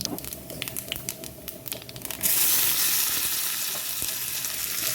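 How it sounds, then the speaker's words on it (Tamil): Spices for sambar tempering crackle and sizzle sharply in hot oil, the hiss jumping louder midway and continuing steadily, with faint clinks at first. "இப்போ நான் சாம்பாருக்கு தாளிக்கிறேன்"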